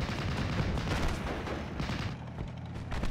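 M5A1 half-track firing its .50 cal machine gun in the Steel Division: Normandy 44 video game: rapid rattling bursts of gunfire with distant booms, fairly faint and continuous.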